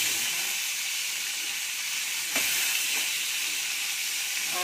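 Fish frying in a little oil in a pan, a loud, steady, close hiss of sizzling that runs unbroken, with one brief crackle near the middle and no talk.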